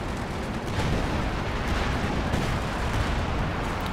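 Artillery fire in the Company of Heroes 2 video game, a dense run of heavy booms and explosions rumbling continuously and loudly with no talk.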